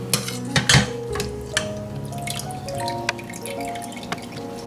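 Liquid drips steadily as a braised chicken drumstick is lifted from its cooking broth, clear close drops falling in an irregular patter with a few faint clinks of a utensil against the pot.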